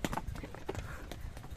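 Horse hooves clip-clopping during a ride in Pahalgam, with a few uneven, muffled thuds close by that are partly covered by wind and other noise.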